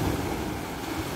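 Sea surf washing onto a beach near Golubitskaya, a steady broadband wash of waves with some wind across the microphone, continuous and fairly close, with no voices.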